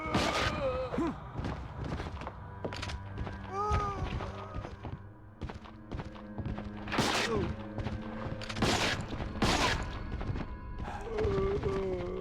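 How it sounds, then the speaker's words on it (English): Nail gun fired in the video game Resident Evil Outbreak, sounding like a real gun: a series of sharp, loud gunshot-like bangs scattered through a busy game soundscape, with some clusters of rapid shots. "Why does the nail gun sound like an actual gun?"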